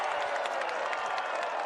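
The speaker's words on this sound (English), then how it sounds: "Park Hyun Kyung gets the crowd roaring with a birdie on 10" A golf gallery at a women's tournament final round applauds a birdie putt by Park Hyun Kyung on the 10th hole, dense, steady clapping from many hands mixed with crowd noise, heard at a moderate distance throughout.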